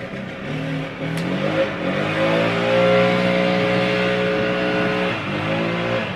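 Motor vehicles ride and rev outside in a neighborhood, a steady loud engine whine rising in pitch and sustaining, like bikes circling nearby.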